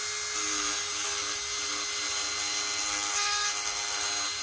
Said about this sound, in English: You can play around with your Dremel bits.